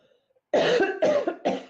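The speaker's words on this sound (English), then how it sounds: "I'm going to cough" Three harsh coughs in quick succession, close and fairly loud, after a brief quiet moment.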